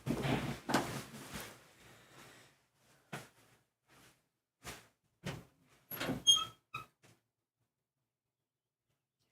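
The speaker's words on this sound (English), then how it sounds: "Every time that door closes" A door bangs shut with a loud thud, followed by scattered knocks, creaks and a high squeak fading into silence.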